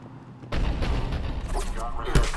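Cerberus cannon fire in the video game Mass Effect 3, a sudden loud boom followed by dense rumbling blasts and a sharp impact near the end, with a voice talking over the barrage.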